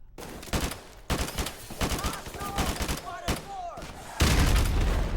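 Gunfire in the video game Modern Warfare Remastered, several sharp bursts of shots in quick succession, loud and close, with a heavier boom near the end and a voice briefly in between.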